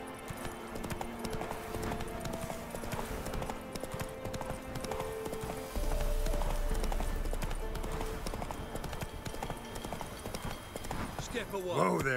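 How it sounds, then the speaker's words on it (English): In The Witcher 3, a horse's hooves keep up an even clip-clop at moderate loudness, mixed with ambient game sounds and music while someone talks over the trotting. "Whoa there, Roach"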